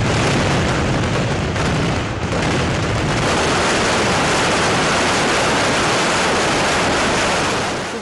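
A daytime fireworks barrage at the Thrissur Pooram festival in Kerala roars as a loud, dense, continuous rumble of overlapping blasts, sustained for several seconds without speech.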